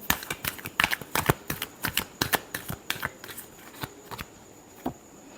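Tarot cards being shuffled by hand in a rapid run of crisp riffling snaps and flutters that gradually thin out and slow, close and moderately quiet, with no voices.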